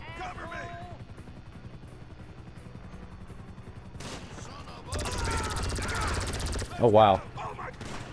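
Rapid gunfire from an unlimited-ammo gun in GTA V Online, with dense bursts in the second half that swell to a loud peak near the end, while a player talks excitedly over it.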